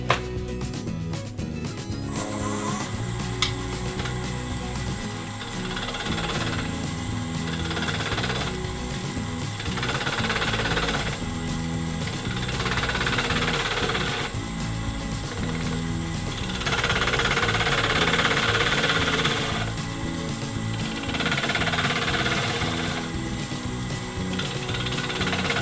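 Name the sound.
wood lathe turning pendant, spindle gouge elongating drilled hole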